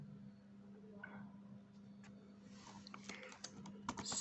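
Typing on a computer keyboard while entering a WordPress site tagline, soft scattered keystrokes that cluster more densely toward the end, with a steady low hum underneath.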